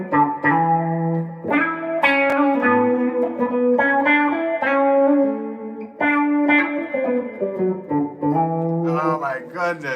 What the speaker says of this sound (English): I know I'm messing around with an envelope filter right now.